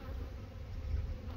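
Steady, low buzzing of honeybees in the open at an apiary in spring, a continuous hum without breaks.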